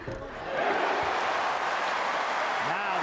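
A basketball arena crowd at a UW versus Washington State men's college game roars and cheers in a steady, sustained wall of noise, with a commentator's voice faintly mixed in.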